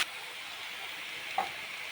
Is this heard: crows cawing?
no